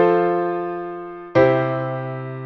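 Two sustained piano-like chords form a plagal cadence, IV moving to I with both chords in root position: one ringing chord decays, then a second strikes and rings on, close and clean with no voice.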